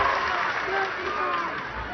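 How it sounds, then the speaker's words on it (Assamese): A crowd at a political gathering with the chief minister present claps steadily for the whole stretch, a dense, continuous wash of applause with no break. "চাপৰিতে দিয়ক সকলোৱে।"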